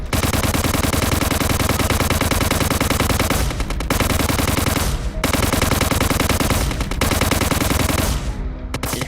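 Loud bursts of rapid automatic gunfire from a weapon in Trials Evolution rattle continuously, broken by a few short pauses, dense and punchy.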